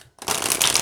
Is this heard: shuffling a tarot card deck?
yes